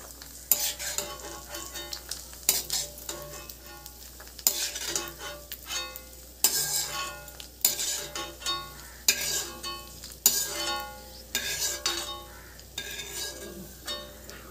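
Ingredients for basmati rice payasam fry in a kadai under a soft sizzle, broken by repeated metallic scrapes and clinks of a spoon against the pan in irregular bursts.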